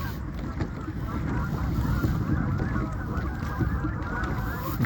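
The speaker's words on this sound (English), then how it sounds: "Some more geese taking off in there." Geese honking as they take off from Otter Tail Lake on a windy November day, heard from a kayak amid steady wind noise on the microphone and water sounds, with calls scattered through the whole stretch.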